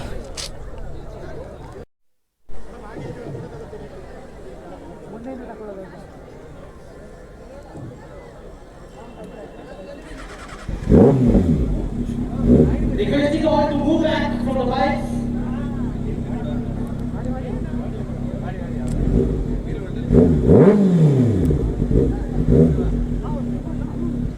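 Superbike engines, including Kawasakis, rev in rising and falling bursts, loud and close, while people talk over the noise at a Yuva Dasara bike gathering in Madikeri, Coorg.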